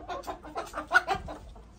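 Several short, soft clucks from roosters in quick uneven succession, fairly close, with faint barnyard background.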